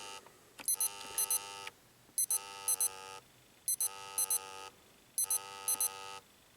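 A Time Timer Watch Plus alarm rings in four loud, evenly spaced bursts of bright electronic beeping, with a low buzz from the watch's vibration running under each burst, and no voices.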